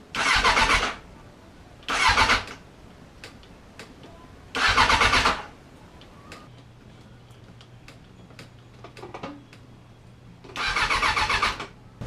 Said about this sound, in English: at least we can see if the starter's gonna turn. We see if the motor's gonna try and turn over